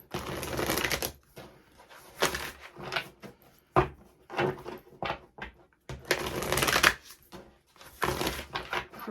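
Tarot cards are shuffled in bursts of crisp riffling and shuffling, with short pauses and soft taps between bouts, close and fairly quiet with no talking.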